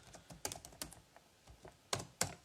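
Typing on a computer keyboard: a quick irregular run of soft clicks and taps, close and fairly faint, with two sharper keystrokes near the end.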